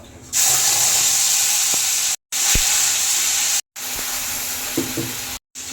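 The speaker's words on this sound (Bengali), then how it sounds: "মশলাটা এবার ভেজে নেব।" Whole spices (bay leaf, cinnamon, cloves, cardamom, dried chilli, cumin) frying in hot oil: a loud, continuous close sizzle with brief cuts and a few soft stirring knocks.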